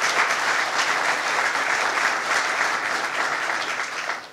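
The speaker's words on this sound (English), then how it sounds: "Let's give her a big round of applause." Steady, sustained audience applause from an outdoor crowd at a state park announcement at Sunken Meadow State Park, dense clapping holding at an even level throughout before tapering slightly at the end.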